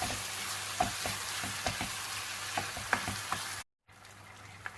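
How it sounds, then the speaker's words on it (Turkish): Bulgur is stirred in a hot pan, a steady close sizzle broken by soft scraping stir strokes, then a brief silence near the end. "Şimdi üstüne birazcık bulgur koyuyoruz. Karıştırıyoruz."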